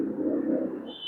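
A bird calls from somewhere up high, a soft, dove-like coo heard alone over about a second, fairly clear and moderately close.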